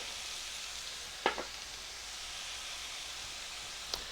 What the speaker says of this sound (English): Stir that around a bit with the onions.